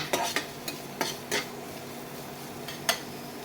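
Ridge gourd with chopped onions is stirred in a pan with butter. Close metallic spatula scrapes and taps land in an irregular run of about six strokes over a soft, steady sizzle, with no talking.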